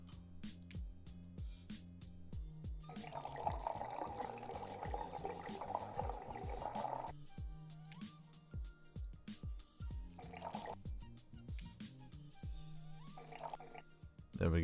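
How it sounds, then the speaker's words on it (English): Sour cream is poured onto tomatoes in the Cooking Simulator game, a soft, faint wet pouring rush lasting a few seconds among light clicks and drips. "Let's go ahead and add some sour cream. Sour cream to the tomatoes."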